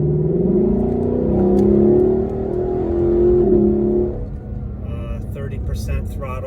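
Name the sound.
Lexus LC500 stock exhaust revving at 30% throttle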